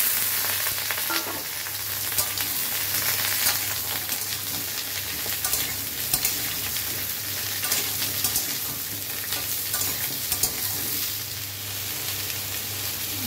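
Potatoes and chopped bottle gourd fry in a pan for a poppy-seed gourd dish, giving a steady, close hiss and crackle of sizzling oil that runs unbroken throughout, with no voices.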